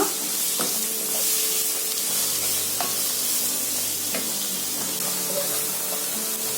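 Onions sauté with salt in a pan for mutton roast, producing a dense, continuous sizzle with occasional scraping stir strokes throughout, close and fairly loud, with no voices.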